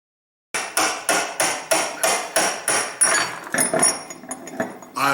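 Steady hammer blows tap a part out on an Ingersoll Rand 242 compressor, about ten sharp, evenly spaced metallic strikes close to the microphone, loosening into a few irregular knocks near the end.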